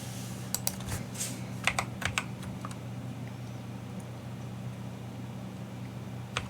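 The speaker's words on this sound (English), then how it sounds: "matter of fact, let me type in his name" A computer keyboard typed on to enter a name: a quick burst of sharp key clicks in the first couple of seconds, then sparse taps over a steady low hum, close and fairly quiet.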